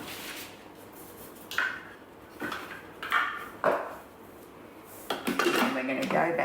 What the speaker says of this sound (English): Now we'll put the lid on.